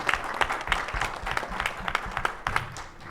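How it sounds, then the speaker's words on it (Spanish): Clapping from an audience after a talk on handling information in social conflict, a short, moderate burst of applause with individual claps audible, fairly faint and without talk. "Un fuerte aplauso para Gabriela Báez, por favor."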